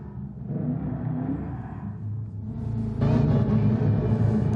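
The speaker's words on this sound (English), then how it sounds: "Oh, you can hear the supercharger" Supercharged car engine in GT Sport, a steady droning rumble with a whine on top that grows noticeably louder and fuller partway through as the car accelerates.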